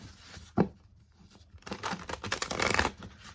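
Tarot cards being shuffled by hand, close and quiet: a lone sharp snap, a short pause, then a quick run of papery riffling and crinkling rustles.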